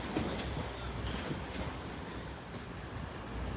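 Trains at Sheffield railway station: a low rumbling rail noise with rolling wheel clatter and a few sharp metallic bursts, moderately close and steady, with no talk over it.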